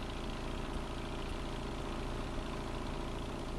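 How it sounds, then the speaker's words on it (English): The gasoline engine powering the pump and auger on a street-repair machine idles at a steady, continuous low rumble, moderately loud and unchanging throughout, with no voices. "Both the pump and auger are powered by a gasoline engine."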